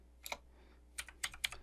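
An email address is typed on a computer keyboard: a few quick, quiet key clicks in two short bursts, close and otherwise silent.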